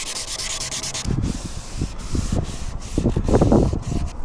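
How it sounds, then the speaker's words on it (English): An electric sander works a scratched surface smooth with a loud, close, continuous rubbing whir that swells and pulses in short strokes, growing more intense toward the end, with no talking. "I'm going to hit it again with the sander."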